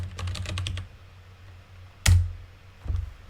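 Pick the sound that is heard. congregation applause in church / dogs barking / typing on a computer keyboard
typing on a computer keyboard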